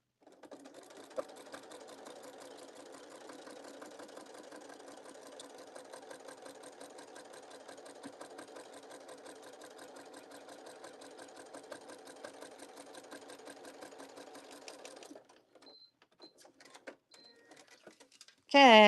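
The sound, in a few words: sewing machine top stitching a teacup pouch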